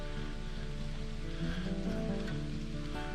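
Rain falls in a mountain trailhead parking lot, heard as a steady soft patter on surfaces beneath a low constant hum, with a faint tonal drone swelling briefly midway.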